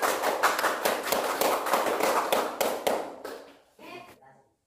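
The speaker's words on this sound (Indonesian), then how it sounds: "kalau itu tepuk tangan untuk kelompok" Students in a classroom clap for a group, a dense run of rhythmic applause that carries for a few seconds before thinning out, with a brief voice and scattered claps as it dies away.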